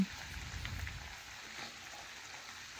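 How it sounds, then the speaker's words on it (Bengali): Water with mustard paste boils in a pan for a fish curry, producing a steady, faint bubbling hiss that holds evenly throughout, close by and with no talk. "দেখুন বন্ধুরা ভালোভাবে ফুটে গেছে"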